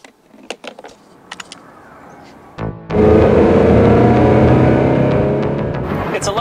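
A Ferrari 360 Modena on the highway: a few light clicks and knocks give way to a loud, steady, broadband engine and road roar from inside the car, holding strong for several seconds.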